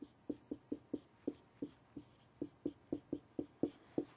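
Pen or pencil writing out a math problem on paper, a steady series of short, soft scratching strokes at a quick, fairly even rhythm, faint and close, with no voices.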